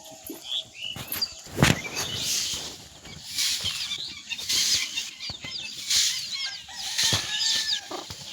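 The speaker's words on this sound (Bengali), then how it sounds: "এই যে খেয়ে নিচ্ছে মুরগিগুলো" Chickens cluck and call while pecking at puffed rice in a home courtyard, with repeated short clucks and chirps over steady background rustle at moderate distance.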